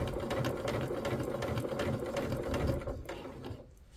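A sewing machine quilts layers of fabric with a steady, close, continuous mechanical whir and rapid needle chatter, then slows and falls quiet near the end.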